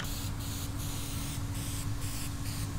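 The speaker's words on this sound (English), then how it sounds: "So basically he's just misting some guide coat on it" Guide coat sprayed onto a car roof during bodywork, soft hissing aerosol bursts repeating in short regular pulses, close and fairly quiet over a low background hum.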